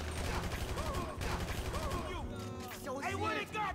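Rapid gunfire crackles in Grand Theft Auto V, dense bursts of shots in quick succession with overlapping pops and voices underneath, loud and close throughout.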